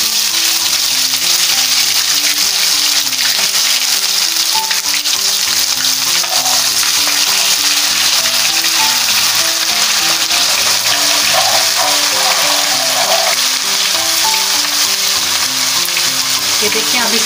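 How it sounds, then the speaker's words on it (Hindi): Ginger-garlic paste fries in hot oil in a pan while nihari is being prepared, giving a loud, steady, broadband sizzle that continues unbroken throughout. "अब इसके अंदर हम इसको ज़रा अदरक लहसुन को अच्छे से भूनेंगे,"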